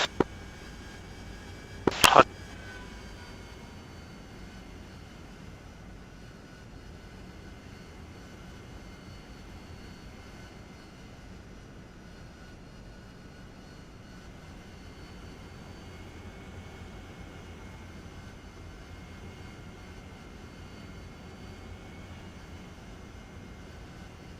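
Aircraft engine in a video game drones steadily as the plane approaches a runway. A sharp burst near the start cuts through a long, even hum that stays moderate throughout.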